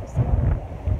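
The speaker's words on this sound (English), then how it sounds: "Now so windy. Yeah, it's a very windy" Strong wind gusting at a seaside cliff near a lighthouse, a steady low roar of buffeting across the whole second with swelling gusts, no talk.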